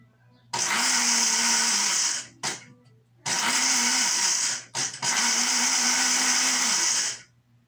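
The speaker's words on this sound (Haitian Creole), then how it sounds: "Quand on a là, je blender grenadilla." A blender runs loudly blending grenadilla, whirring in three sustained bursts separated by short pauses, with no talk.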